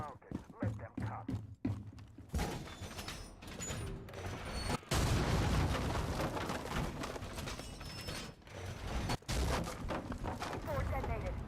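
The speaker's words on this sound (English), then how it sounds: "C4 detonated." A Rainbow Six Mobile C4 charge goes off as a sharp blast partway through, amid ongoing gunfire and cracking shots, heard within loud, continuous battle noise.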